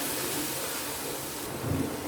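Coriander powder, red chili and cumin roast in a pan, giving a soft steady hiss and sizzle with a slight swell toward the end.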